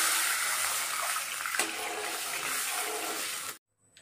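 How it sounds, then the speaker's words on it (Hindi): About half a glass of water poured into a hot pan of garlic and chili while making besan kadhi gives a steady, close rushing hiss that cuts off abruptly near the end. "अब हमको इसमें डालना है आधी ग्लास के लगभग पानी।"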